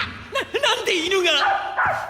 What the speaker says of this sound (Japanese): なんで犬が？